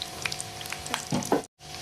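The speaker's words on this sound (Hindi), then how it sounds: "अदरक बारीक पतली, इनको मैं हल्का हल्का ब्राउन कर लूँगी" Thinly sliced ginger frying in hot oil while being browned for chicken nihari: a close, steady sizzle with small crackling pops, briefly cut to silence near the end before resuming.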